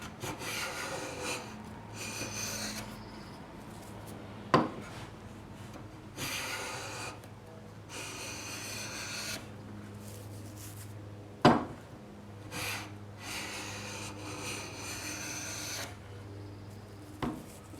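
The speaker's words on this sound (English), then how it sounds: "Getting pretty wispy shavings here." A hand plane shaves very thin, wispy curls off a figured maple drawer-box part, giving repeated rasping strokes of a few seconds each, close and steady. Two sharp knocks punctuate the planing, and no voices are heard.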